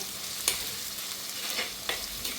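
Onion, green chili and ginger sautéing in a pan over medium heat, a soft steady sizzle with a few light scrapes and stirring clicks, fairly quiet and close.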